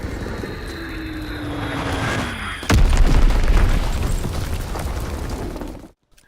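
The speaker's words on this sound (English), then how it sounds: "Enemy bomb incoming. Get to cover." A bomb blast in the Call of Duty WWII multiplayer game: an aircraft drone and a falling whistle build up, then a sudden deep boom erupts and rumbles for several seconds before cutting to silence.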